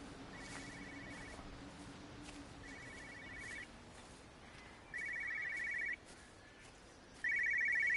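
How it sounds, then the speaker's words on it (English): A telephone rings in the video game Everybody's Gone to the Rapture, four bursts of electronic bell ringing that grow louder over a faint ambient hiss, with no talking. "There's a phone!"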